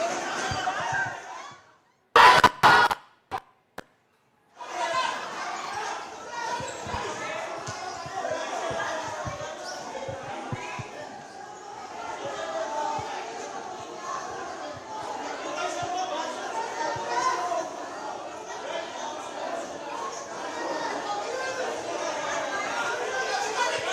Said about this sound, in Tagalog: Ayan, may naririnig tayong sigawan.